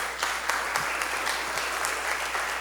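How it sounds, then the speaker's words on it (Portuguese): An audience applauding for a professor at a special session honoring painter Jorge de Lima, with steady, dense clapping heard close and continuously, alone without talk. "Peço uma salva de palmas para o professor."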